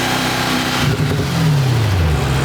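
A 2018 Audi S6 fitted with CTS Turbo intakes revs loudly close by, its engine note holding steady and then swelling and falling through a throttle blip with strong intake roar.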